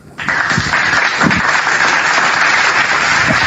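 A crowd bursts into applause at a religious talk, the clapping starting suddenly and swelling into a loud, dense, sustained wash of many hands that stays strong to the end.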